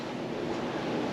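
Wind and waves while sailing around Banks Peninsula, New Zealand, a steady broad rushing wash of wind and water against the boat, continuous and fairly close with no voices.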